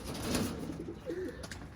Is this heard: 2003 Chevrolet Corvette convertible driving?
no